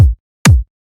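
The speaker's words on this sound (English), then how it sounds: "You can get any cool kick. This is a fat kick." Two punchy, deep kick drum hits, the second with a brighter click on the attack, each decaying quickly.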